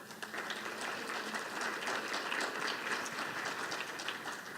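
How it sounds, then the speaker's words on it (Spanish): An audience at an art-education conference applauds to open the session, a dense, even wash of many hands clapping, steady and somewhat distant, with no talking over it. "le pido un aplauso a todos ustedes para dar inicio"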